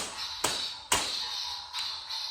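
Two sharp metallic lightsaber clashes ring out close together over a steady electric hum, followed by a softer third hit near the end.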